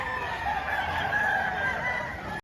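A rooster crows at a livestock auction market in Padre Garcia in the early morning, a single drawn-out call at moderate volume over a faint background hum.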